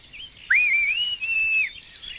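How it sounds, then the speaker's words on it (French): A single shrill whistle sounds for about a second, high and clear, rising briefly before holding steady and cutting off. "un coup de sifflet strident l'arrête"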